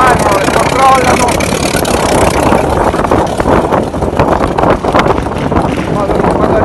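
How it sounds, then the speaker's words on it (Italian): Vintage motorcycles being warmed up in the race pits at The Race of Gentleman, engines running and idling steadily over loud wind buffeting, with several machines rumbling together close by. "stanno scaldando le moto, le fermano, le controllano"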